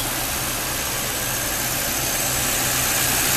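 A 2008 Ford Crown Victoria police car's engine idles steadily with a smooth, continuous low hum and broadband noise throughout, no voices present.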